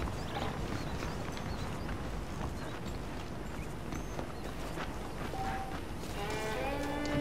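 Horses' hooves clip-clop in Red Dead Redemption on Xbox One X, a steady trot of fairly faint hoofbeats over a dense outdoor ambience, with a brief musical tone near the end.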